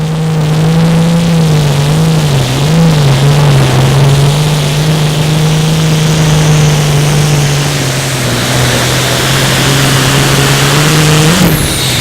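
A loud tractor-pulling engine at an outlaw pulling event drones steadily at high revs throughout, its pitch wavering slightly, close and continuous with no talking.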